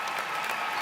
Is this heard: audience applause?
yes